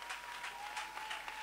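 A church congregation applauds, a dense, fairly faint patter of many hands clapping steadily through the short stretch, with no voices standing out.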